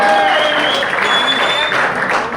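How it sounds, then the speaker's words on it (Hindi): Steady, dense applause from an audience at a bank training centre's cultural event in Lucknow, loud and sustained throughout with crowd noise mixed in. "एक बार यार अपने लिए तालियां बजा दो।"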